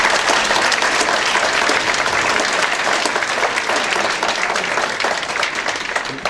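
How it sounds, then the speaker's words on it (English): Steady, dense applause from a ranch-event audience honouring the Kleiner family, loud and sustained throughout before easing slightly at the end. "Let's give them a round of applause."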